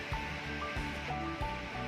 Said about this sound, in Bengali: দুধটা ঠান্ডা অবস্থাতেই আমি কড়াইতে ঢেলে নিচ্ছি।